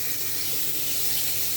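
Eggplant slices coated in salt and turmeric fry in hot oil, a steady close sizzle with faint stirring, no voices.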